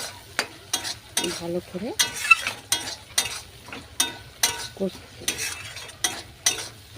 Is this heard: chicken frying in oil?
yes